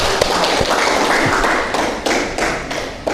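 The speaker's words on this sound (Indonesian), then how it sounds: "Ayo berikan aplaus nak." A small classroom group applauds a student group, a short dense patter of clapping with a few sharper individual claps, close and loud.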